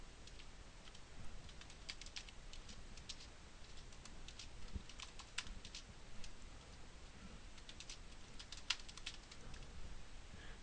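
Soft, quiet key taps on a computer keyboard while typing a command at the command line, irregular light clicks over a hissy background.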